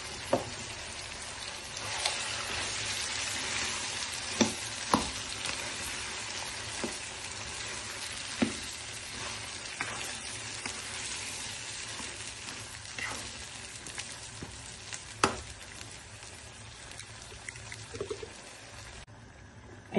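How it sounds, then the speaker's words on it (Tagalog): Softened mung beans being stirred into a simmering pot, with a steady bubbling sizzle throughout and faint scrapes and clicks of the spoon now and then, no talking. "at akin ang ihahalo ang munggo na kanina ko pa pinalambot."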